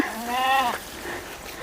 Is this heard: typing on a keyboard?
no